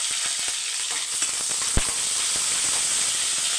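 Mustard seeds, onion, green chili and curry leaves sizzle steadily in a hot pan, a dense close frying hiss with faint crackles and a single sharp tap of utensil against metal.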